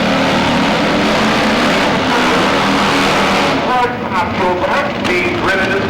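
A drag racing motorcycle makes a run, with a loud, harsh engine roar that dominates at first, then breaks into rising revving bursts as it pulls away.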